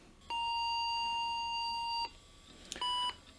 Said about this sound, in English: we're getting angry beeps and blue texts